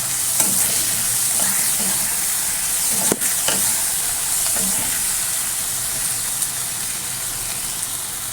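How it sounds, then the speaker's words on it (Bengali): Potato, onion, tomato and aubergine frying in a pan, a steady loud sizzle heard close with occasional stirring scrapes, no voices. "ভাজা বসিয়েছি আলু পেঁয়াজ টমেটো আর বেগুন একটু ভাজা ভাজা হোক"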